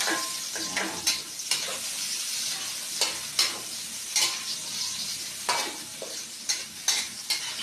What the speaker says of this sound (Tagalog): Ngayon po, ginigisa ko po ang luya sa bawang.